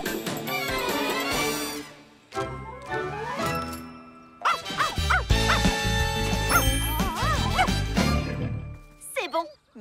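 A cartoon dog yips and barks in short bursts, with whimpers and springy musical effects, in a Polly Pocket animated episode with voices talking around it.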